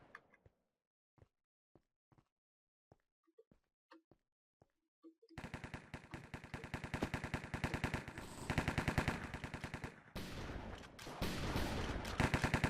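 Gunfire on a CS:GO-style map in Minecraft starts as a few isolated sharp pops separated by silence. It then erupts into dense, rapid automatic bursts that keep rattling steadily and grow louder toward the end.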